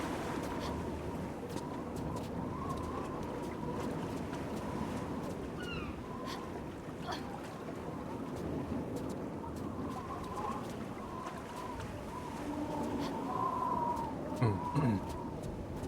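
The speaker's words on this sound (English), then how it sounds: "Are there really seagulls out?" Seagulls call in Tomb Raider Chronicles Remastered: mewing gull cries recur faintly over a steady ambient bed, with a louder burst of calls near the end.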